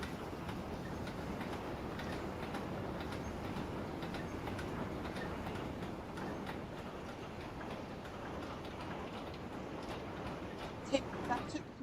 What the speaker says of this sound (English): A lovely long goods train.